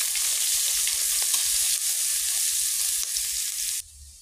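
Chopped green chillies and onion hit hot oil already holding mustard seeds, dried red chillies and curry leaves, setting off a loud, steady, close sizzle with light stirring. The sizzle cuts off abruptly near the end, and no one speaks.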